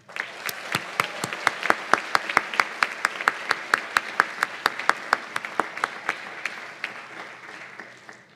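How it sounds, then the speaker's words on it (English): Applause from a graduation hooding ceremony audience, sharp distinct claps forming a steady, fairly sparse rhythm that stays even across the span, heard alone and at moderate distance in a large hall. "So please join me and let's give them another round of applause."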